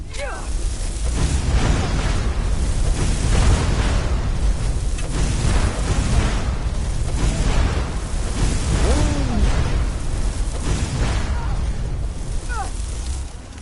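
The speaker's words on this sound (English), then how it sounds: "Explosions, and then you'll see where they are when the smoke clears." Explosions in the video game Skyrim: a dense run of booming blasts, loud and continuous throughout with repeated surges, and no talk on top.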